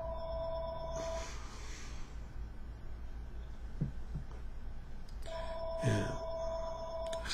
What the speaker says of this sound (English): I should have unplugged my phone, but it's ringing, so you hear it ringing.